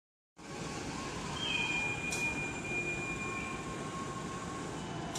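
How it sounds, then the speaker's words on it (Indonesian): An Argo Sindoro train departs Cirebon station, a steady rail rumble rising in from silence and holding, with a long high wheel squeal drawn out in the middle and faint station noise beneath. "Berangkat kembali kereta api Argo Sindoro tujuan akhir stasiun Gambir."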